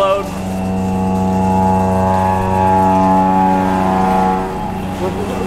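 A Haas VF-3YT/50 CNC machine cuts steel with a loud, steady tonal hum and a continuous milling drone that lasts the whole clip, with talk in the background.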